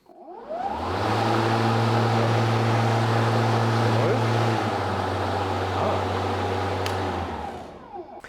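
A cordless battery lawn mower motor switches on and spins up to full speed, then settles slightly lower, a steady loud whine holding for several seconds before winding down, with no talk over it.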